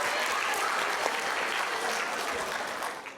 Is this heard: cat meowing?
no